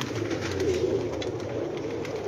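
A crowd of pigeons murmurs in constant low cooing at a rooftop loft housing many breeds, the overlapping calls near and unbroken, with no voices.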